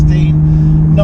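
Porsche 991.1 GTS from 2014 to 2016, normally aspirated, driven in Sport Plus with the sports exhaust open, giving a loud steady engine drone from inside the car for about a second.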